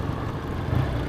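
Classic British motorcycle engine running with a steady low rumble, close and continuous throughout, no voices.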